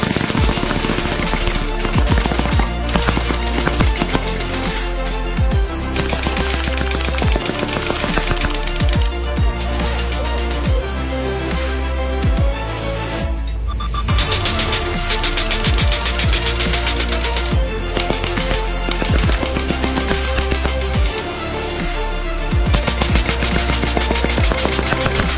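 An automatic PCP air rifle fires in long rapid bursts, dense sharp cracks running almost continuously at close range, loud throughout with only a brief pause near the middle.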